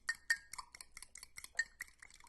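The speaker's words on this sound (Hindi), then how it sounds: "1-2 मिनट हिला लें इसको अच्छे तरीके से।" Couscous salad mixture with salt stirred with a utensil, a quick run of light clinking taps and scrapes against the bowl, close and irregular.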